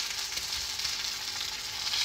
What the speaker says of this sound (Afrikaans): Heerlik braai daai worsie.